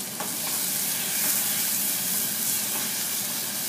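Tomatoes hit a hot pan of spiced minced chicken keema with garam masala and chili, giving a bright, steady sizzle and hiss with light stirring scrapes, close and continuous.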